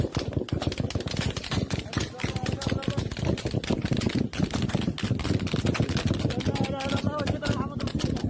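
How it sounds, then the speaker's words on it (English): Dense, rapid gunfire in Rafah, with bursts of automatic fire and sharp shots crowding one another nonstop throughout, loud and played back from a recording. "Gunshots are heard for a full 5 minutes on the video."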